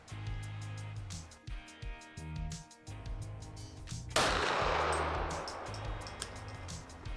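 Sig P320 XFive Legion pistol firing Sig Sauer 124 grain V-Crown jacketed hollow point rounds, a burst of sharp reports with a loud, close blast partway through, heard over background noise.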